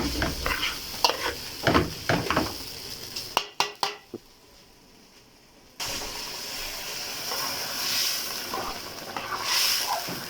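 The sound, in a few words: stirring rice into fried vermicelli in a pan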